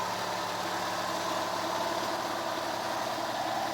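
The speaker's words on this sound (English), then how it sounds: "The compressor is running." An air compressor fitted with a compressed air dryer runs continuously, giving a steady, even mechanical drone with a low hum and no breaks or changes in level.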